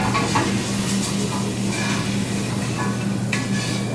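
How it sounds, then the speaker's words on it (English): A spoon stirs chilli in a pot, giving a continuous close scraping and bubbling hiss with faint clinks, and no talking. "I'm going to give it a quick stir"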